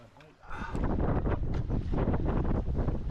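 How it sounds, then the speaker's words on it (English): Strong wind gusts buffet the microphone while boating on a lake, a loud, rough, continuous roar that swells after a quieter opening moment. "That's some big wind."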